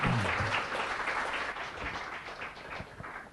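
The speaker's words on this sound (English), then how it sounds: "So if you could please give a big round of applause to His Holiness." Applause from a lecture audience for His Holiness Bhakti Charu Swami, a dense, steady wash of many hands clapping together that holds fairly even and eases slightly toward the end.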